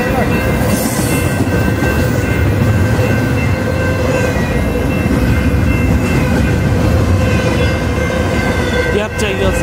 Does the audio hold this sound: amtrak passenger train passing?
yes